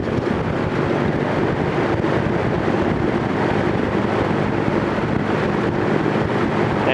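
A vintage General Electric 3-speed reversible box fan runs on its high setting, a steady, loud whooshing rush of air with a low rumble that holds unchanged throughout.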